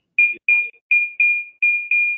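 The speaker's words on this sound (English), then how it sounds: "It's Rita's phone." A phone ringtone chirps loudly in short repeated bursts, six evenly spaced electronic beeps close to the microphone, interrupting an online meeting with no talk during the ringing.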